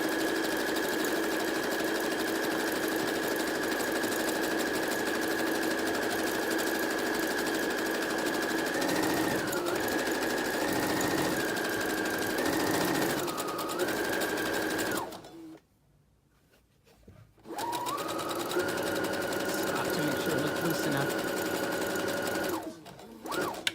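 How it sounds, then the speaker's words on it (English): A sewing machine runs steadily, stitching along the curved edge of a t-shirt. The close, loud mechanical whir holds an even pitch with slight speed changes, pauses briefly partway through, then resumes. "just stitching along the outside edge, that curved edge there."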